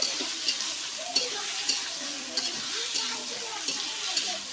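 A green chilli and mustard paste fries in a pan for a thin koi fish curry, with a faint steady sizzle and light, regular clicks of a spoon stirring throughout, and no talk.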